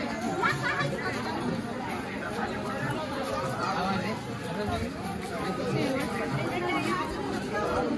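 Crowd chatter fills the grounds of the Kagal Urus fair, a dense, continuous babble of many voices mixed with fairground bustle at a steady level.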